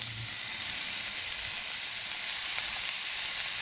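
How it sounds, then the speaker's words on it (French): Pre-cooked shrimp skewers browning over high heat in a frying pan, a steady bright sizzle with constant hiss and no talking. "Donc je les mets à la poêle juste pour les dorer."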